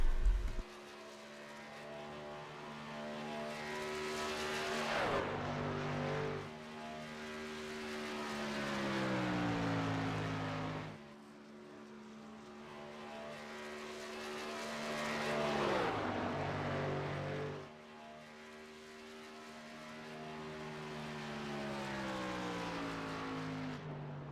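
Race trucks lapping Chicagoland in qualifying for a Northwest Truck Series event, engines rising and falling as each lap swings past, loud passes around five and sixteen seconds and a steady distant drone between them, with no talk.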